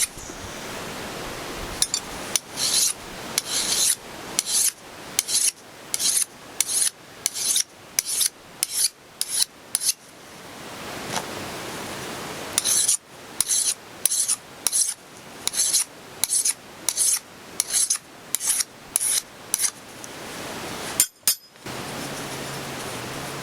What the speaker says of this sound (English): we'll get down, do some more filing